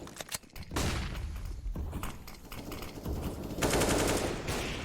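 Rapid automatic rifle spray in CS:GO during a competitive match, bursts of close, loud gunfire rattling in sustained strings with brief gaps, layered with other in-game combat noise.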